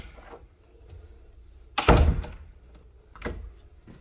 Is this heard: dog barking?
no